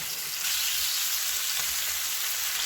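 Fish sizzling in a pan just after being flipped, a dense, steady crackle and hiss of hot oil, close and continuous with no talking.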